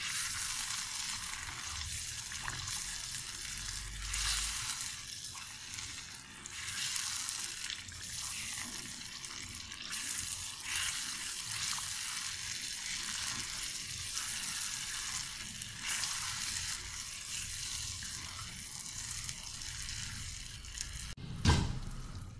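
Jaggery and semolina halwa with almonds is mixed in a hot pan, giving a steady, close sizzle with soft scraping and stirring strokes for the whole stretch and a brief louder knock near the end.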